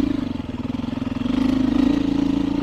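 A Beta 390 or 500 dirt bike engine pulls steadily in a low gear with shortened gearing, loud and close, its pulsing drone rising slightly as it rides.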